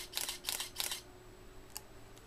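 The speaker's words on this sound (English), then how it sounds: "I'll press the shutter release." A digital SLR camera fires rapid burst shots on its shutter release during an SD memory card speed test, three crisp mechanical clicks in quick succession and then one fainter click after a short pause, heard close up with no talking.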